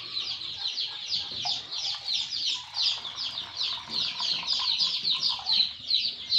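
A large batch of local chicks, around 500, being readied for their first vaccination: high, rapid peeping comes in a steady rhythm of overlapping bursts, close and lively, over faint background handling noises.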